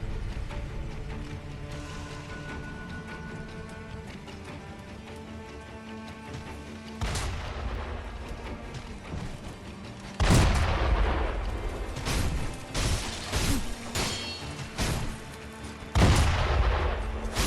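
A big gun fires in the video game Sekiro: Shadows Die Twice, with several heavy booming blasts and crashes in the second half over a steady game soundtrack.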